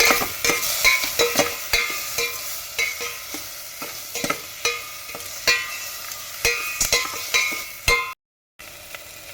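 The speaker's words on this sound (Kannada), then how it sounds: "ಅದ್ರ ಜೊತೆಗಿನ ಸ್ವಲ್ಪ ಉಪ್ಪು ಹಾಗೆ ಕಾಲು ಟೇಬಲ್ ಸ್ಪೂನ್ ಆಗುವಷ್ಟು ಅರಿಶಿನ ಹಾಕ್ಬಿಟ್ಟು ಈ ರೀತಿಯಾಗಿ ಮಿಕ್ಸ್ ಮಾಡಿ" A spoon stirs tomato, salt and turmeric in a pan of sizzling tempering for hotel-style sambar, with rhythmic scraping clinks repeating close up over a low fry and a brief silent gap near the end.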